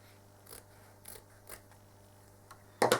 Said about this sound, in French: Il existe des petits ciseaux avec des bouts arrondis comme ça. Je crois que ce sont des ciseaux moustache.